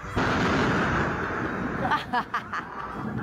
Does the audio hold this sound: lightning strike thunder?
yes